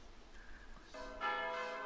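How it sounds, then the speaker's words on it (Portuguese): Church bells ring out in the driving game Mon Bazou at six in the evening, a bright tolling that starts softly and then swells into loud, sustained clanging. "Sinos da igreja tocando loucamente."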